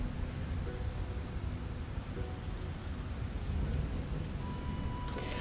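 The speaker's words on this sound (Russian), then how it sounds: "Вот это ливень." Heavy, steady rain pours down in The Witcher: Enhanced Edition, a dense, continuous hiss with faint rumbling underneath, loud and unbroken throughout, with no talking.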